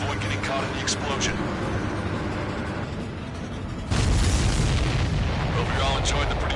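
A missile explosion in Ace Combat 7 hits with a sudden loud boom about midway, swelling into a broad rumbling roar over ongoing game sound and radio voices.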